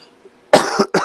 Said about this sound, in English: Sorry to cough on you.